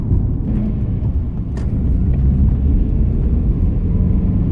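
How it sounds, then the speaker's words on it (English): Steady low road rumble and engine drone inside a 2004 Toyota RAV4 with a four-cylinder engine and 150k miles, heard from the cabin while driving, loud and constant with no talk. "that 4-cylinder is definitely enough to zip it around the streets and stuff"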